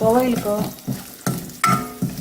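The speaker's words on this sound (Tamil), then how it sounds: "இப்போ தேங்காய் போட்டுக்கிறேன். தேங்காய் நல்லா கொஞ்சம் செவந்து வரட்டும்." Grated coconut sautéed in a pan on the stove for chutney, a close sizzle punctuated by four sharp spatula scrapes and stirs, with a brief tonal voice-like sound at the start.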